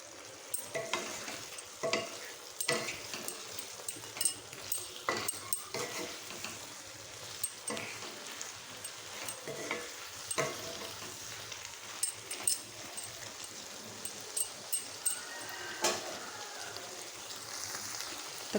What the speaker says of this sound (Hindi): ताको भल भाव मिक्स करदबा।